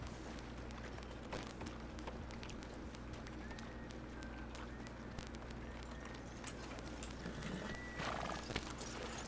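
Hooves clip-clop along with a horse's whinny in the Red Dead Redemption 2 world, set against a steady ambient game backdrop with soft intermittent talk.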